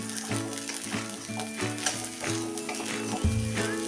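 Sabudana khichdi with sugar being sautéed in a pan, a soft steady sizzle with repeated scraping and stirring strokes of a spatula at a regular rhythm, close and alone without talk.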